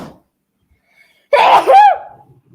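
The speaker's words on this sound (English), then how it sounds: "I am going to sneeze." A single loud, close sneeze bursts out after a short silence, with a sharp intake and a forceful release trailing off.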